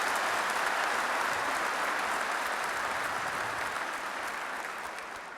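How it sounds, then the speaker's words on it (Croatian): An audience gives a long round of applause for child performers at the Croatian Hunting Association's centenary celebration. The clapping is steady and full, fading slightly toward the end, with no talking. "nagradite ih još jednim velikim pljeskom"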